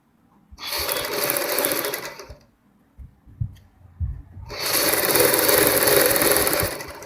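A sewing machine stitches piping along a kurti neck in two bursts of steady, close whirring, separated by a pause filled with soft handling knocks and clicks.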